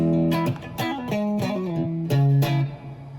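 Clean electric guitar tone on the neck pickup, a short run of plucked notes and chords with warm sustained harmonics, played close and clear with no talking.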